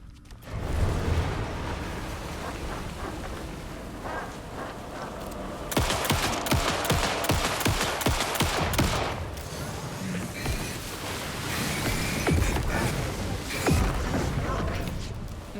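Gunfire rings out in Alan Wake 2, with dense, rapid shots and booming blasts over roughly fifteen seconds. It grows heavier partway through and stays loud and close, with some speech mixed under the shooting.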